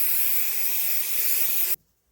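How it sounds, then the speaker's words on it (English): A steady aerosol spray of quilting adhesive onto wadding hisses continuously for under two seconds, close up, then stops abruptly into near silence. "spray it onto the wadding"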